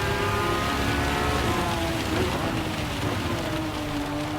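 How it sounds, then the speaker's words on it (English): Steady rain hiss in a wet race in Gran Turismo 7, a dense broadband wash running loud and unbroken throughout, with droning car engine tones layered underneath. "Why does it have to be raining?"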